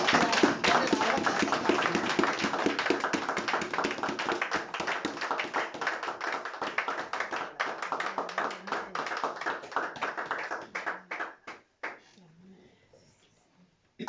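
A church congregation claps hard in quick, steady rhythm to acclaim the Lord during a worship service, dense and continuous for about eleven seconds, then thinning to scattered claps before quiet.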